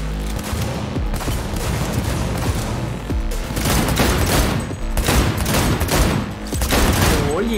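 Dense, continuous gunfire in Cyberpunk 2077, rapid overlapping shots and booms forming a loud fusillade throughout, with a voice talking underneath at times.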